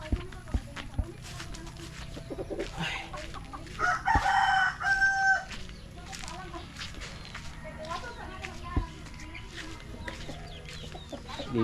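Fighting roosters crow and cluck nearby, with one loud crow standing out mid-way among scattered clucks, while people talk in the background.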